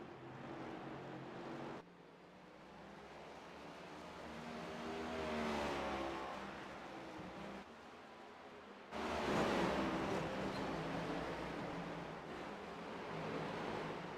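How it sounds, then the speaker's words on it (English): Several race cars battle for position in a sim racing game, their engines droning and rising in pitch as they accelerate, with the sound swelling and shifting as the pack passes. "We have a gaggle of cars right now battling for the 7th position right here."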